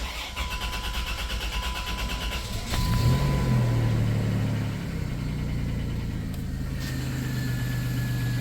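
An AWD Chrysler Town & Country engine that hasn't run in a while cranks and catches, then settles into a steady, low idle with a muffled exhaust note through a muffler.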